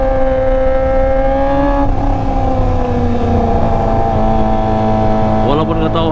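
A Kawasaki ZX25R fitted with a LeoVince LV10 racing underbelly exhaust runs loud and close, its engine note holding high, dipping briefly and then climbing again in a sharp rev near the end.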